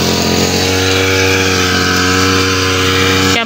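A grass cutter runs continuously at the edge of a yard, a steady loud buzzing motor whine held close and unbroken before cutting off abruptly at the end.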